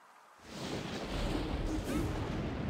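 Iron Cannon attack in a World of Warcraft pet battle: a sudden heavy booming blast that rolls into a sustained rumbling, fairly loud and alone.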